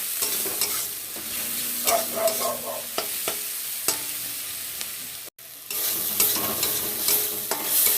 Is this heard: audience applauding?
no